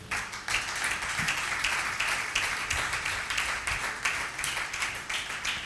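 Congregation applauding in a church during a French-language sermon, a steady dense wash of clapping that carries evenly through the whole stretch with no voices on top.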